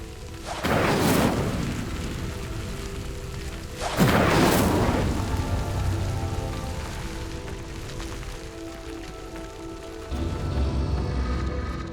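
Fire spell flames igniting a pyre in Hogwarts Legacy: two loud whooshing bursts of flame a few seconds apart, each fading into a steady crackling roar that holds until a rumble swells near the end.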